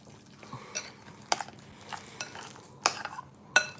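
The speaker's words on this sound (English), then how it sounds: "Stir it up." A drink with a squeeze of lime is stirred with a spoon, giving quiet scraping and a handful of sharp, spaced clinks against the glass, close by and without talk.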